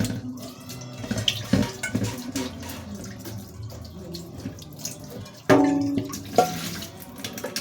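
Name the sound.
washing rice in water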